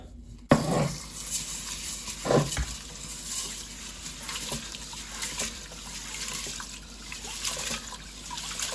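Rice being washed in water in a container, a continuous close sloshing and trickling with a sharp knock at the start and a couple of splashy thumps early on.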